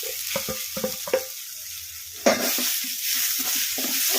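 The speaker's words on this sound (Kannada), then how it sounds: "ಟೊಮೊಟೊ ಉಳ್ಳಾಗಡ್ಡಿ ಹಸಿಮೆಣ್ಸಿನ್ಕಾಯಿ ಎಲ್ಲವೂ ಫ್ರೈ ಆಗಿದಾವಲ್ಲ" Tomatoes, onions and green chillies fry on low flame in a kadai for tomato chutney. A few quick spatula scrapes and taps open, then a sudden burst settles into a steady, close sizzle with light stirring, without any talk.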